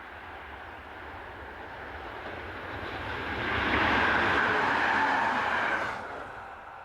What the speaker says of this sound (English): Plan V 2-car unit number 803 travels south with a local train for Eindhoven